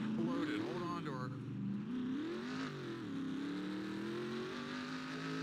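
Engine note of an F1 car in the NR2003 racing game with a cooked, failing engine, a steady droning whine with pitch swells, heard continuously under someone talking over it.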